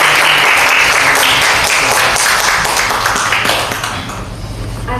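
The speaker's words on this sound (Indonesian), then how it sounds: "Kita berikan aplaus dulu." Audience applause at a school presentation, a steady, loud wash of many hands clapping together for about five seconds, thinning slightly toward the end.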